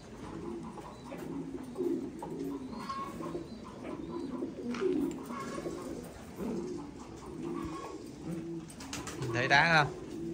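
Several Thai Titan pigeons, a breeding pair, coo in deep, bubbling phrases close by, with brief chirps and a faint voice near the end.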